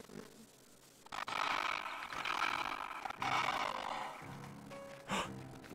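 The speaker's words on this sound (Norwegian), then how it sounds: "så hørte jeg et brøl" A bobcat roars in a hunting video game, a loud, rough, broad cry that swells for several seconds, then a sharp brief call near the end over game ambience.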